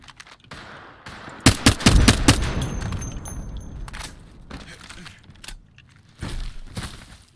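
Gunfire in the video game Apex Legends: loud bursts of rapid shots crowd the opening seconds, then come scattered single cracks and a final short burst, with game effects and a chime in between.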